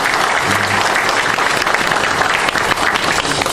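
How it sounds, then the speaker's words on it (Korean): Loud, dense applause from a seated audience at a Korean Printing Culture Day ceremony honoring two lawmakers, sustained and even across the whole stretch with no voices over it. "이우현 의원님과 우리 이은혜 의원님께도 통창 박수 부탁드립니다."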